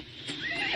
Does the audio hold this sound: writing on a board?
no